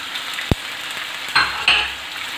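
Chicken tikka masala spices, salt, chilli, coriander, garam masala, turmeric and vinegar are stirred in a pan over a quiet sizzle. A sharp clink and two short scraping bursts of the spoon rise above the low frying.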